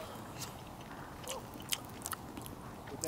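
Close chewing of cooked kokanee salmon and brown trout, soft wet mouth sounds with a few sharper bites standing out over a quiet, steady room background.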